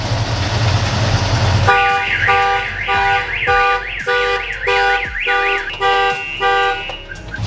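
A loud car alarm blares nearby, cycling through rising-and-falling wails and then rapid repeated beeps over a low engine rumble.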